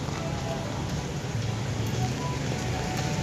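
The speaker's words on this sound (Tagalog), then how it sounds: "Umuulan." Steady rain falling outdoors during a typhoon in the Philippines, a dense continuous hiss at constant loudness throughout.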